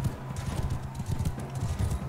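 Horse hooves clatter in a rapid, even galloping rhythm in the Mount and Blade 2 Bannerlord tournament, close and steady through the whole short stretch.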